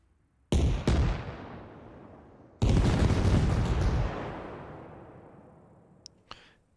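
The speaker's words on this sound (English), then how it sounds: "That is our artillery." Artillery strike fired as a cluster in Arma Reforger, with a sharp impact blast followed by a heavier second salvo that rumbles and slowly decays, then a couple of faint distant cracks at the end; no talking.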